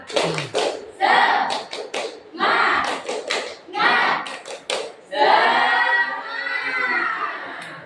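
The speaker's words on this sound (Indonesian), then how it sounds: "Akhir. Tepuk semangat." A group of children does a rhythmic clap-and-shout cheer chant, with bursts of synchronized hand claps between loud shouted calls, then a sustained chorus of voices near the end.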